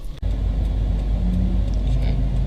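A Subaru car driving along the road, its engine rumbling steadily and loud from the cabin throughout, with a brief dip near the start.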